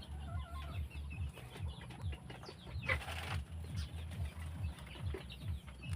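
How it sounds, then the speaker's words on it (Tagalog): Chickens cluck on a farm in a dense, rhythmic chorus of low clucks close by, joined by higher calls, with a short burst of wing flapping midway and no talking. "yung mga ibon dito, makukulit yan"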